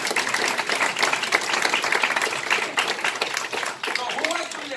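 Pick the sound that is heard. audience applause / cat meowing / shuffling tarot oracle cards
audience applause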